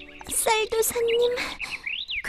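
Cartoon birds in a Korean animated series chirp and tweet in quick, bright, whistled calls, a few near and loud in bursts, with a rising trill near the end.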